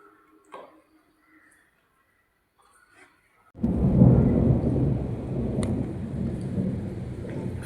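After a few seconds of near silence with faint distant noises, a loud, deep thunder rumble breaks in and keeps rolling, with rain-like hiss continuing underneath.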